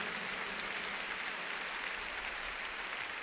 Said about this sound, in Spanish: De un aplauso a Dios por la madurez de la gente.